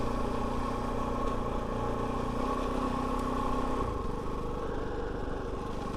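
A Kove 450 Rally motorcycle rides easy trails at moderate revs, its engine droning steadily and close throughout, with a pitch drop near the end as the throttle eases.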